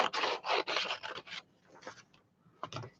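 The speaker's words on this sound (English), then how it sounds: "I am going to cut our little shapes out." Scissors snipping out tiny paper shapes for a miniature Christmas scene, a quick series of close, crisp cutting strokes followed by a few quieter snips.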